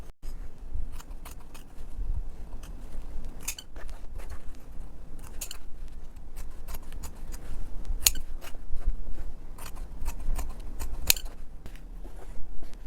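Scissors trim fabric seam allowances and snip the corners of a bag lining pocket, with a steady series of close crisp snips and scattered louder cuts over soft rustling.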